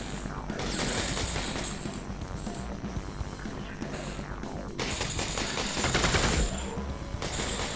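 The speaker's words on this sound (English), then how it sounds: "Let's make some use of the submachine gun." A submachine gun fires in rapid, sustained automatic bursts in Half-Life: Alyx, a dense rattling volley running almost continuously with brief lulls, loud and close.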